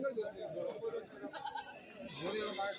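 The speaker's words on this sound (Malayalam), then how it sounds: "ഇവിടെയും കുറച്ച് ആടുകൾ" Goats bleat among the crowd at a goat market, a few wavering calls rising over steady background chatter and people talking nearby, moderately close but partly masked by voices.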